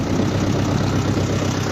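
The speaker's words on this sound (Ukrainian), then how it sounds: "Запустили двигун на ловолі. Прогріваємо." A tractor engine fitted with a rotary tiller idles steadily after starting, warming up before work in a young vineyard, a loud, constant low rumble with no change in pace and no talk.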